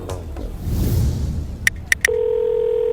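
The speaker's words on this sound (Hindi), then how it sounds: "अथर मोनू को कॉल मिला रहा था, पर 2 बेल जाने के बाद भी मोनू ने फोन नहीं उठाया" A phone call placed in a Hindi audio story: three quick dialing beeps, then a steady electronic ringback tone that holds unanswered to the end, close and clear with no voices.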